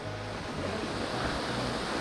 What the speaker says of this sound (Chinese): 我哋而家就喺呢個瀑布旁邊